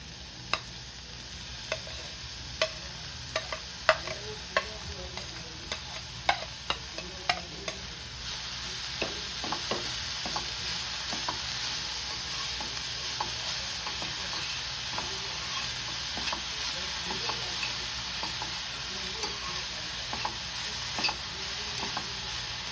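A spatula scrapes and taps through fenugreek leaves and fried onions in a pan, sharp irregular clicks over a faint steady sizzle.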